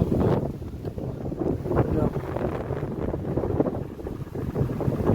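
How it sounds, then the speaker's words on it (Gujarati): Strong wind buffets the microphone in a continuous low roar, with a voice speaking faintly underneath. "પવન તો જો"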